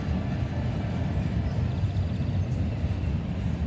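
A westbound freight train rumbles past on the wrong main line, a steady low, broad roar holding even through the short stretch with no voices.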